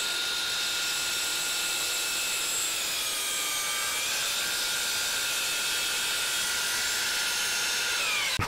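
A DeWalt FlexVolt 12-inch miter saw cuts through MDF with a loud, steady high whine that holds for several seconds and then winds down at the end.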